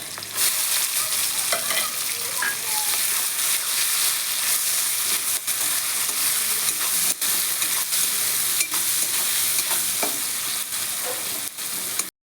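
Sliced onion and green chillies frying in hot oil in a home kitchen pan, a steady loud sizzle with scraping stirs throughout, no voices.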